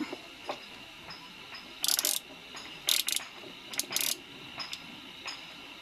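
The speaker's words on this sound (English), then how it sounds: "To finish this job, you are going to need a 17mm spanner on the other end." A 17mm spanner tightens a bolt on a motorcycle crash bar, giving several short bursts of metallic ratcheting clicks spread over a few seconds against a quiet background, with small taps in between.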